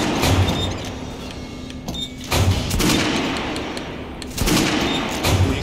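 Weapons are test-fired on a shooting range in Metro Last Light, with several sharp shots in short bursts landing close and loud over a steady mechanical background bed.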